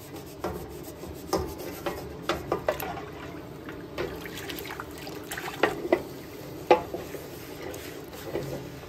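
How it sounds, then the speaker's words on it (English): A vintage steel skillet is scrubbed and rinsed with water, soft rasping strokes and wet swishes repeating close up, with occasional sharper clanks and splashes of the pan. "And we'll just continue to scrub and rinse, scrub and rinse, scrub and rinse until the water in here is not brown anymore."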